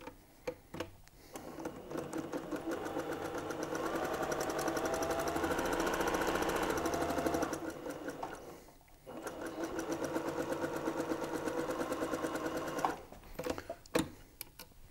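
Sewing machine running in long steady bursts, stitching fabric pieces for a soft indoor ball with rapid mechanical chatter, stopping briefly midway and again near the end with a few clicks; quiet and close, no voices.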